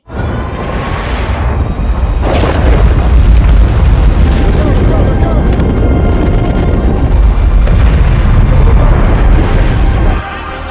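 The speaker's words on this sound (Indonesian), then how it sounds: "masuk tepat saat komet terbesar menghantam bumi" A massive comet impact explosion from the film Greenland 2 booms and rumbles loudly, with a deep sustained roar running for about ten seconds before easing at the end.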